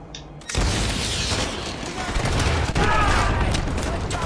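Grenade explosion in Call of Duty Modern Warfare 2 Remastered: a sudden loud burst of blast noise that rolls on as dense crackling battle din with gunfire, filling the whole stretch at close range.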